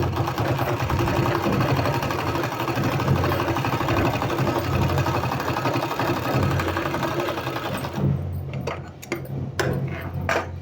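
Sewing machine stitching a seam on palazzo pants, a steady close mechanical whir running continuously before stopping near the end, leaving a few short clicks and handling sounds.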